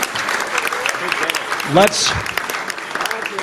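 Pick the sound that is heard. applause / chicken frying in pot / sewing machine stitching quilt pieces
applause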